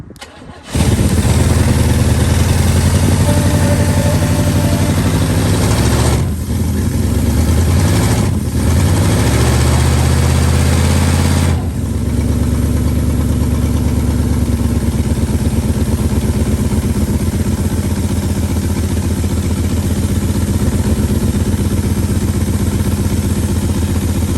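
Engine of a 1974 Chevy Monte Carlo cranking and catching after years of sitting, then running loud and close with a rough, steady idle and a couple of revs.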